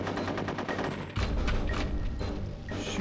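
Rapid gunfire from Conker's Bad Fur Day, a loud close burst of repeated shots running through the clip, with a heavy boom midway and continued firing after.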